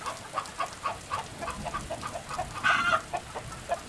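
A hen and a rooster cluck repeatedly in their pen, short clucks in an uneven rhythm at moderate distance, with one louder call near the end and no talk.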